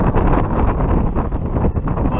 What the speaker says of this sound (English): It's kind of cold out here, windy.